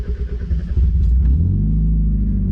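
A Mazda MX-5 Miata engine cranks and catches after sitting unused for two months, settling from an uneven struggling turnover into a steady low idle rumble, close and loud with no talk.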